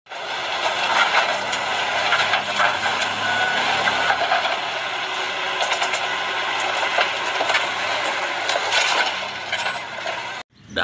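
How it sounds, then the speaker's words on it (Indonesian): A dump truck idles and rumbles nearby, a steady loud engine noise with brief high tones and short hissing bursts, ending abruptly. "ada mobil dump truck"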